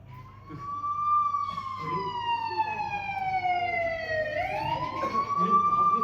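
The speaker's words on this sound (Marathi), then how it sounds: "पोलीस गाडी" A police car siren wails in long rising and falling sweeps, fairly close and steady over several seconds, with faint voices and background noise beneath it.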